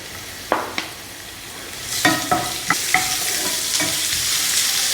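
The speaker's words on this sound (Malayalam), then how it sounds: "വെളിച്ചെണ്ണ ചൂടായി കഴിയുമ്പോൾ നമ്മുടെ ഇഞ്ചിയും വെളുത്തുള്ളിയും അരിഞ്ഞു വെച്ചേക്കണത് ഇടാം." Chopped ginger and garlic dropped into hot coconut oil for a Kerala prawn roast, a few sharp spoon clinks followed by a rising hiss and sizzle with repeated scraping stirs.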